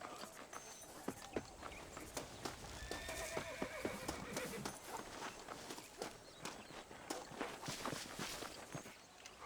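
A horse's hooves clip-clop in a steady walking rhythm while it is ridden in the Western game Red Dead Redemption, with whinnies and snorts mixed in over a quiet outdoor backdrop.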